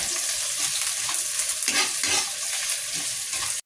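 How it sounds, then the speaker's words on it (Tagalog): Ginger, onion and garlic sautéing in a pan for beef ox tripe balbacua, a continuous close sizzle broken by a few stirring scrapes. "igisa muna natin."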